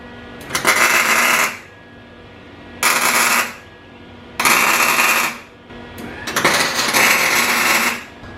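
Tack welding an FCS mount plate inside a car's engine bay: four loud, crackling bursts of about a second each, separated by short quiet gaps.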